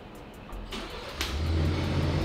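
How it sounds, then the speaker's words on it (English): A Ford truck engine starting remotely from a phone app, a sharp crank then a steady idle rumble that settles in, heard from nearby with no talking. "My truck literally just started."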